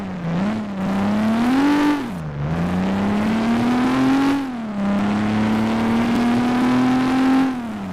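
A car engine revving in the Garry's Mod video game, a steady droning hum that swells and dips in pitch several times as the throttle rises and falls, loud and continuous throughout.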